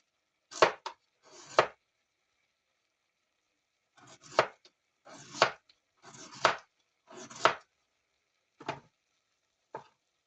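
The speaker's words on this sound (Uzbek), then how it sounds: "men ungacha sabzilarimizni maydalab to'g'rab olaman" Knife chopping carrots on a board, about eight separate crisp, close chops spaced out in short bursts with quiet pauses between them, and no speech.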